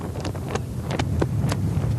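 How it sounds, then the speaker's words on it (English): Steady gusting wind of nearly 20 miles an hour buffets the microphone on an open beach where land yachts with big sails are being raced, a continuous low rumble with brief brighter rushes and no talk. "it's gusting nearly 20 miles an hour"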